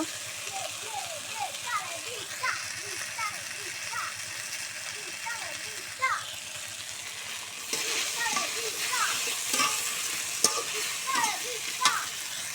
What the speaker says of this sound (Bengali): এই যে কচুরমুখী আর আলু তেলের পর দিয়ে নাড়াচাড়া করছি